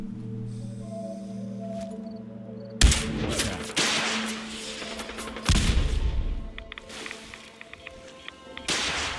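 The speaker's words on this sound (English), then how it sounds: "fire a few shots at the super mutants to piss them off" Gunfire during a fight with super mutants in the Fallout 4 video game, loud bursts of shots and impacts over several seconds, following a quieter stretch of game music, with no talking.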